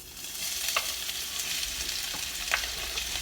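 Onions and garlic sizzle in hot oil, a loud, even hiss close by with a few soft scrapes of stirring.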